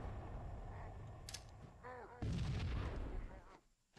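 A grenade goes off in the video game Halo: Combat Evolved, a booming blast partway through set against ongoing battle noise, laser-like whoops and scattered shots, moderately distant and fairly quiet overall.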